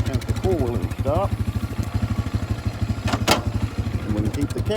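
A four-wheeler ATV idles nearby on a small Brangus cattle farm in Oklahoma, a steady, rapid engine putter that continues throughout, with brief voices rising over it.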